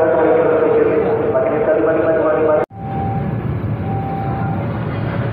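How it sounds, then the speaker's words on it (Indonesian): A long-distance train passes through a station, its loud, continuous rumble and rolling clatter heard from an upper platform level, with a brief sharp break midway and a faint tonal whine afterward. "ini kereta api jarak jauh dari arah Jawa ya"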